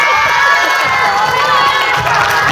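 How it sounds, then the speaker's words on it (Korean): Middle school students in a counseling session shout and cheer loudly together in a dense, continuous roar of young voices. "박수 한번 주세요"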